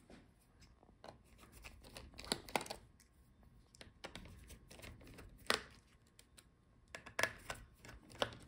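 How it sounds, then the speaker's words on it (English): Small clicks, taps and scraping of plastic and metal parts as the motherboard is pulled out of an MSI Alpha 15 laptop during disassembly, irregular close handling sounds at low level. "We are pulling out the motherboard."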